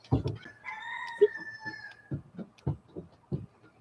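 A rooster crows faintly in the distance, a drawn-out call over a series of soft, low thumps and clucks nearby.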